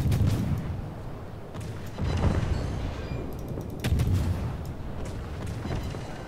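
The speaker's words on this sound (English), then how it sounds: "Concentrate fire on the enemy warship." Naval gunfire from warships in the World of Warships video game, heard as heavy booming salvos roughly every two seconds over a continuous low rumble, with no voices.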